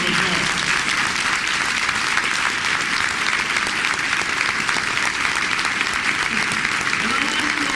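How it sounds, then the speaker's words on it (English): A hotel ballroom crowd at a women's conference gives a sustained round of applause for the Sister Captain, a dense, steady wash of clapping that holds at an even level from start to finish. "Sister, give her a round of applause."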